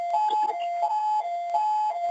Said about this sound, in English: We've got some alarms going off in the background there, and bells ringing here in Chiswick.